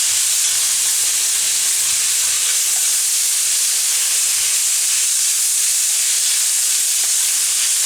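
Chicken, shrimp and vegetables sizzle steadily on a hot hibachi griddle as they are mixed, a continuous close hiss with faint scraping and no talking.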